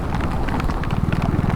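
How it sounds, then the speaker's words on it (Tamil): Steady, dense rain falls close by along a mountain road between Manali and Chandigarh, a continuous hiss with scattered louder drops throughout. "நல்ல மழை வந்துட்டு"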